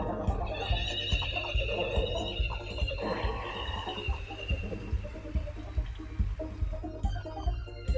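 Horses neigh and whinny during a horse festival race in the Story of Seasons: Friends video game, with steady in-game background sound and a few light hoof clops running throughout.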